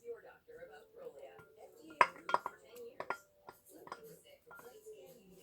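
Chopped white onion tipped into a crockpot, heard as a few sharp clinks and knocks of utensil against the pot, close and brief, while a person talks quietly around them.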